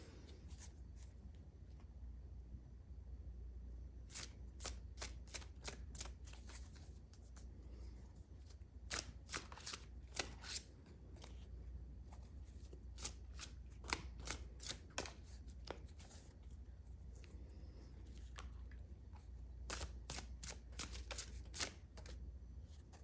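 Tarot cards being shuffled and drawn, with repeated crisp riffles and soft card slaps in bursts over a low steady hum, close and fairly quiet, no talking.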